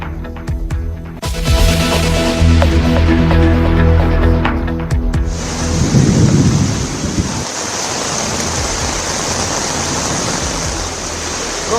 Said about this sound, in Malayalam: ഡൽഹിയിൽ ദുരിതം വിതച്ച് കനത്ത മഴ